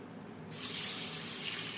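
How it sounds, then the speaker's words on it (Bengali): Tap water starts running about half a second in and pours steadily into a sink or bowl while moong dal lentils are washed, near and fairly loud with no talking. "ডাল পরিষ্কার করে জল পাল্টে পাল্টে ধুয়ে নেব"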